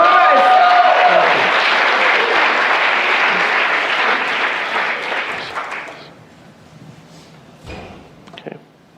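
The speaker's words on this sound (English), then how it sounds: "give him a round of applause." Live audience at a podcast taping gives a guest a big round of applause, loud and dense at first, then thinning out and fading to a few scattered claps and room noise.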